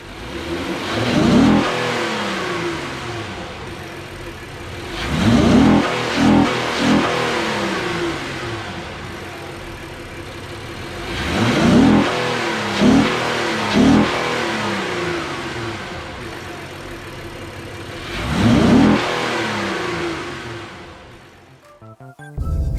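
A Honda Ridgeline engine with an aftermarket Takeda intake revs hard four times, each surge rising in pitch and falling back to a rumbling idle in between, close and loud.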